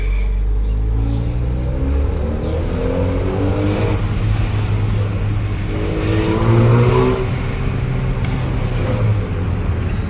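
A 2018 Honda Accord fitted with a Borla S-Type exhaust idles with a deep, steady drone and is revved in a couple of rising, throaty bursts, heard close and loud throughout with no talking.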